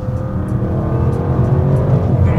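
A 2024 Audi RS 6 Performance pulls hard in third gear, its engine a loud, steady, rising drone heard from inside the car, with no voices over it.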